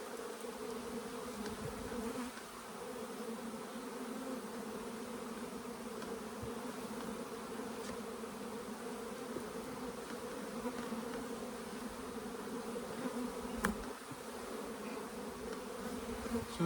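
Honeybees in an indoor paper boost hive drone with a steady, dense buzz that holds at an even, moderate level throughout, close by and with no voices over it.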